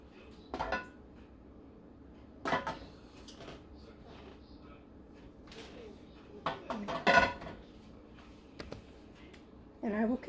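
Glass pint canning jars filled with celery and onion are set into a canner, giving a few separate clinks and knocks spread out over several seconds, with quiet handling noise between them.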